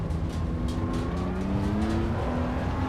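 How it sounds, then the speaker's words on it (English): A BMW M4 GT3 Evo race car in the Assetto Corsa EVO video game, its engine roaring steadily and loud throughout with rising and shifting harmonic tones as it accelerates around the track. "Just listen to this car roar."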